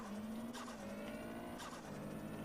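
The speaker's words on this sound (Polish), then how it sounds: "Jeszcze ten piękny dźwięk turbiny, proszę pana" Car engine in MTA: San Andreas with a high, sustained turbo whine that rises slightly over a low engine drone, fairly quiet.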